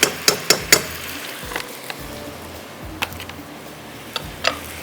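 A spoon stirs salt into a pot of rice for tarka chawal, giving several sharp metallic clinks and taps spread unevenly across the stretch, fairly close, with a soft background hiss and no talk.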